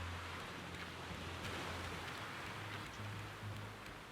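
Rain falls in the survival video game Raft, a soft, steady hiss of drops on water and surfaces, faint and unbroken with no voices.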